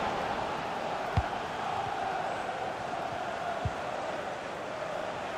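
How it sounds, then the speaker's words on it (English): Football stadium crowd in the FIFA 23 video game: a steady, dense roar of spectators held at an even level throughout, with a couple of brief dull thumps standing out. "The crowd have really got behind them today."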